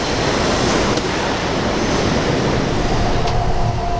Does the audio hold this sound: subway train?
yes